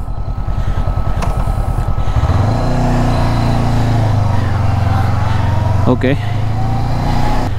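A Honda CB500X 500cc motorcycle engine idles and then revs into a steady drone as the bike pulls away, loud and close, with a brief spoken word at the start.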